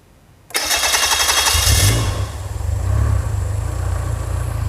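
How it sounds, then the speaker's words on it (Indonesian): A car engine on a workshop bench cranks and catches, then runs rough and uneven, its low drone surging and vibrating heavily, loud and close with no talk. "Mesin bergetar dan mengumbak-umbak, ya. Suara tidak tentu dan juga mesin bergetar sangat keras."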